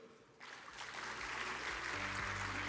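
A conference audience at a blockchain event in Incheon breaks into applause after a speech, a dense, steady wash of clapping that starts suddenly and holds at an even level throughout.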